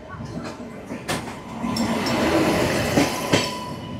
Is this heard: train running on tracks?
yes